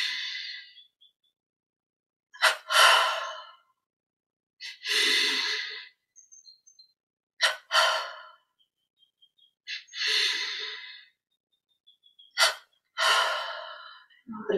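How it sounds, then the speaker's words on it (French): Double breathing exercise in a yoga session: a series of sharp, audible inhales and exhales repeating in pairs, each burst of breath separated by short silences, close and fairly loud, with no other sounds. "Trois petites contractions détentes avec la double respiration."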